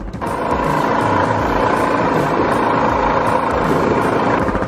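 Quad bike engine running steadily close by outdoors near the sea, a constant loud mechanical drone with rough low rumble and no speech.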